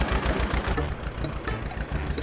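Small mini tractors in a children's race labour up a mountain dirt road, their engines chugging and knocking loudly and continuously, several motors blending together close by.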